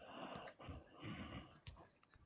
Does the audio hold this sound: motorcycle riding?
no